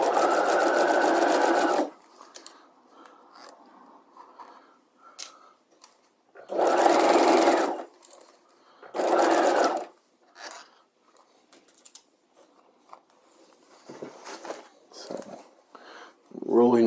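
A sewing machine stitches a dress sleeve in three loud, close bursts of steady whirring, separated by quiet handling of fabric and faint rustles and clicks.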